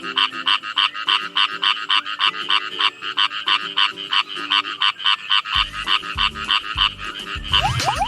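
Emo frogs and a banded bullfrog call in a rhythmic chorus of close, loud croaks repeating roughly twice a second, with deeper overlapping calls joining in near the end.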